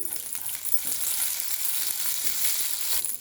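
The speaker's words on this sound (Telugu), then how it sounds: "ఇది కొంచెం హీట్ అయితేనే ఫెన్నెల్ సీడ్స్ చెప్పాను కదండి, సోంపు కొంచెం వేయించుకోండి" Fennel seeds fry in hot oil in a pan for a curd, potato and green pea curry, making a continuous close, crackling sizzle with no voices.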